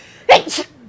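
A single person sneezes close by, a sharp intake then an explosive burst, heard alone against a quiet background.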